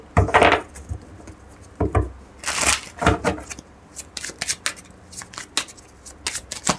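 Tarot cards are shuffled by hand in quick bursts of riffling and sliding, with brief pauses between the bursts. The sound is close and fairly loud.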